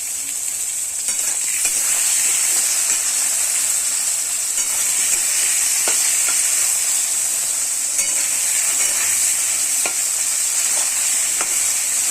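Eggplant pieces frying in salted oil in a kadai, a loud, unbroken sizzle and hiss held for about twelve seconds with faint occasional pops and utensil taps.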